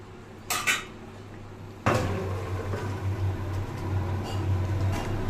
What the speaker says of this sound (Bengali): আমি একটা ঢাকা দিয়ে দেব